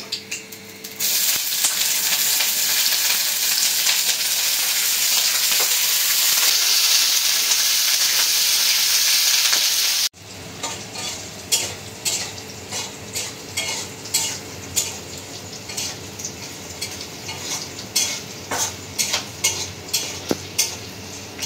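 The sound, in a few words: cubed onions frying in soybean oil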